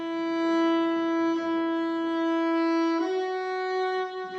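A long sustained bowed string note held on E, steady and bright with rich overtones, shifting slightly in tone partway through, played alone in a room.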